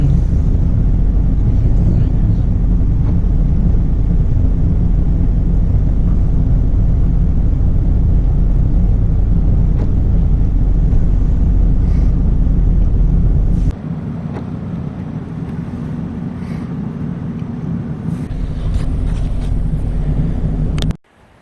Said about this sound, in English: The new engine is running great.